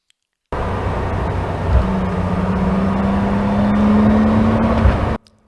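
A Porsche 911 lapping Barber Motorsport Park in Alabama on a track day, its engine droning steadily from inside the car, the pitch climbing slowly under acceleration with wind and road rumble, loud and close with no talk.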